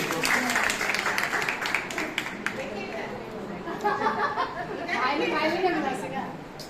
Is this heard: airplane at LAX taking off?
no